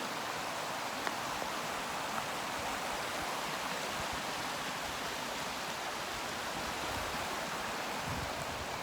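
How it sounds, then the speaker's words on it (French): A mountain river on a July hike from the Col du Joly rushes in a steady, close, unbroken roar of churning water, with no voices. "Et donc on suit la rivière"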